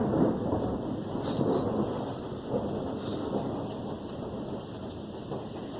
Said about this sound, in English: A little thunder.